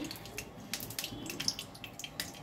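Onions frying in a little hot oil in a kadai give soft, quiet crackles and small pops at an uneven rhythm over a low background hiss.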